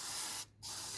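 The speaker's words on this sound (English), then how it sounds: "I just bought this degreaser, and what I'm going to do is spray this" Short hissing bursts of degreaser from an aerosol spray can, a steady spray broken by one brief pause, close and fairly loud with no talk.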